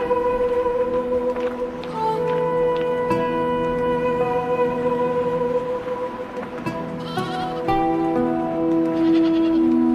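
A goat bleats repeatedly in sustained, wavering calls that dominate the scene, close and loud, with no talking.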